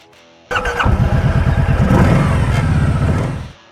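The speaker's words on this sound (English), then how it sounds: "Revving once more at number 1, Kawasaki Vulcan 1700 Voyager." A Kawasaki Vulcan 1700 Voyager touring cruiser's V-twin engine starts up abruptly and revs hard, pulsing with a rhythmic lumpy beat close by before cutting off after about three seconds, with no voices.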